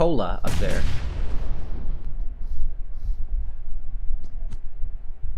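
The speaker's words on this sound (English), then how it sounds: "He's gonna cook a nade up after all that." A grenade explosion in a video game, a loud booming blast that rolls off into a fading rumble, followed by quieter scattered in-game noise.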